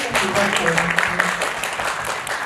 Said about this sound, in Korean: 박수 한번 쳐드리면 될